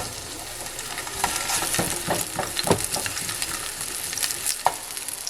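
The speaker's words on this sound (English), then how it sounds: "you're going to place the plantains in the pan." Plantains sizzle as they fry in vegetable oil in a pan, a steady close crackle with scattered pops and light scraping clinks.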